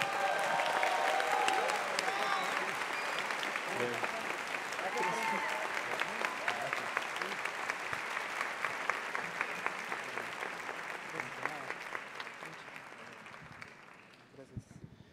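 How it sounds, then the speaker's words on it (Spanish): Sustained audience applause fills a theatre after an award announcement at a youth orchestra concert at the Teatro Nacional Miguel Ángel Asturias, dense steady clapping that thins and fades out near the end. "Un aplauso para él."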